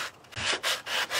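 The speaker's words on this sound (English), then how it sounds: "So I'm just sanding" Sandpaper rubbing over a rice paper book, steady scratchy strokes in a close rhythm of about four passes, each swelling and fading, with no talk.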